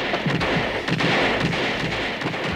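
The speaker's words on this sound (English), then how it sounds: "Number 5 is blown to pieces by heavy gunfire." Dense, rapid gunfire with booming thuds rumbles continuously, heavy and fairly close, with no voices.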